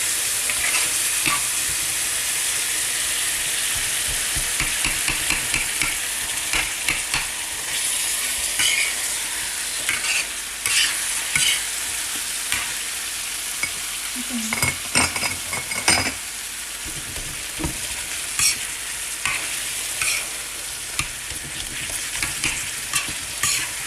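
Beef stirred and fried on a tawa with broth, a steady close sizzle under repeated scraping and clinking of a metal spatula against the pan, with no talking.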